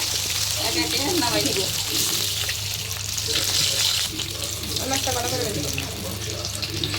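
Fish (koi and magur) sizzle and crackle steadily in hot oil, loud and close, with a constant hiss like food frying in a pan.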